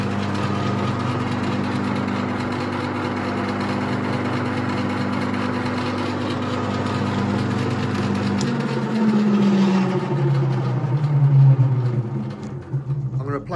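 Drum shell polishing machine running on 3D printed TPU replacement gears, a steady low motorized hum and whir that holds evenly, then shifts pitch and roughens toward the end, close and fairly loud.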